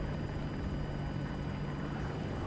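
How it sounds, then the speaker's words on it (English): A helicopter in the shooter game Battlefield 2042 thunders close overhead, its steady dense rotor roar holding at an even loud level throughout with no voices over it. "Some choppers on us."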